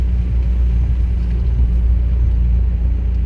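A McLaren 720S Spider sports car drives up at a golf club, its engine a loud, steady low rumble held close throughout with no voices over it.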